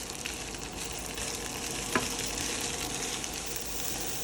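White rice stir-fried in an oiled pan with golden minced garlic and bacon gives a steady, close sizzle that runs unbroken throughout, with one brief scrape of the utensil partway through and no talking.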